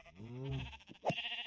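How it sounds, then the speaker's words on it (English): A sheep on an island in a video game gives a wavering bleat, followed by a short, sharper cry; the calls are close and fairly quiet, with no talking. "And has sheep, and pigs,"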